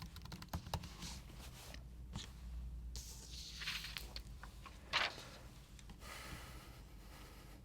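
Keystrokes on a computer keyboard typing a short word into a software field, a quiet irregular run of clicks with small pauses, up close and alone without talk.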